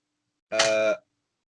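A single bell-like ring from a large church-style bell nearby, one struck tone with a bright harmonic ring that lasts about half a second and stops abruptly, alone with no other sound.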